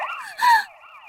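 A police car siren wails in a short rising and falling sweep, loud and close, swelling briefly in the middle before easing off, with no voices over it.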